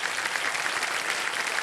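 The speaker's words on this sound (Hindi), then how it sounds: "बहुत बहुत स्वागत तालियों के साथ" A studio audience on a televised quiz show applauds to welcome contestants, a thick, even roar of many hands clapping at once, loud and sustained without a break.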